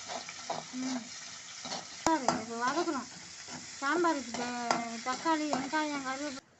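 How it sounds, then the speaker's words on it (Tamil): Ingredients for a drumstick leaf sambar sauté in a pan, giving a steady low sizzle with occasional stirring scrapes while a voice talks over it at intervals. "வதக்கிறது"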